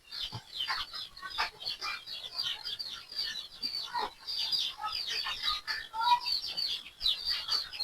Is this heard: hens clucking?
yes